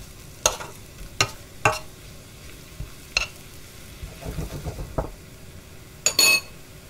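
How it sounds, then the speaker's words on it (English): Garlic fries for spicy prawns in a pan under a low sizzle, broken by several sharp metallic clinks and scrapes of a utensil against the pan, all close by with no talking. "Just letting the garlic cook a little."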